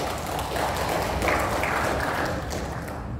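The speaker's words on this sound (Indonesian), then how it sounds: "Tepuk tangan untuk kita semua" Teachers attending a child-rights training session applaud together in a room, a full, even burst of clapping from many hands that holds steady for a few seconds.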